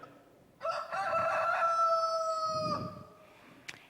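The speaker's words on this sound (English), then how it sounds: "Immediately a rooster crowed." A rooster crows once, a long loud cock-a-doodle-doo rising and holding before trailing off, followed by a brief faint rustle.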